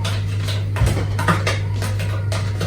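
A fork scrapes cream cheese into a cooking pot with a few soft metallic taps and scrapes over a steady low hum, close and fairly quiet.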